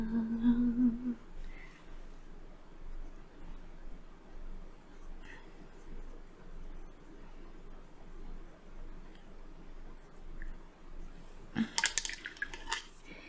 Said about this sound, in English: Cleaned it off in water.